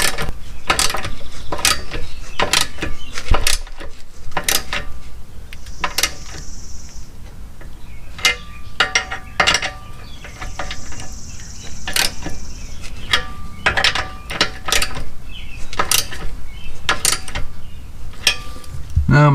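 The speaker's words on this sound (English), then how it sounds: "I'm going to get a ratchet and snug them up." Ratchet with a 9/16 socket snugging up exhaust bolts on a 2006 Ultima motorcycle: close, loud, repeated clicking bursts of the pawl, in quick runs with short pauses.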